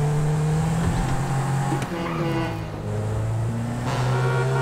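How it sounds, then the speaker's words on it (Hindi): A simulated car engine in Grand Theft Auto V drones and revs, pitch rising and falling through gear changes, steady and loud throughout. "ऐसा आवाज़ करती है गाड़ी बिल्कुल।"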